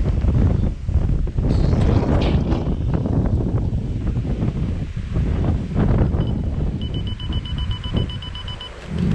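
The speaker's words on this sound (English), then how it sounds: "Yeah, this wind." Gusting wind buffets the microphone on a rainy night among parked cars, rough and close, with a faint electronic beeping near the end.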